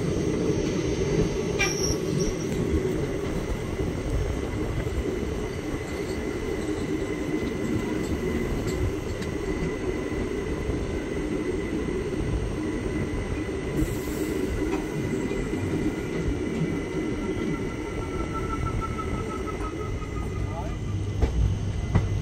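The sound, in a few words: train running, AC chair car interior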